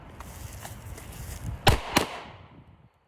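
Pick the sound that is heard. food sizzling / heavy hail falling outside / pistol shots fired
pistol shots fired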